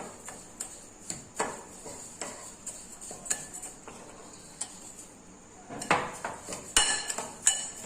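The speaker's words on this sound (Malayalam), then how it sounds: "ഇനി നമുക്ക് നമ്മുടെ ചാറ്റ് മസാല പിന്നെ മിക്സ് ചെയ്തെടുക്കാം" A spoon mixing chaat masala for moong dal fry, giving repeated light metallic clinks and scrapes against a bowl at an irregular pace, busier and louder toward the end.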